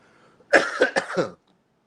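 A quick cluster of three or four close, harsh coughs in a row, with quiet before and after.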